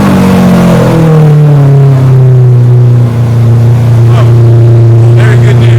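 Lamborghini Aventador SV V12 engine cranking and firing up after a battery change, settling into a loud, steady low idle with a rising rev tone, close and continuous throughout.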